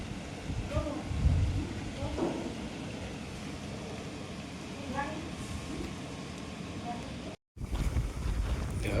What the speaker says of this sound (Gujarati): પવન તો વધતો જ જાય છે. બહુ જોયું છે એવો પવન.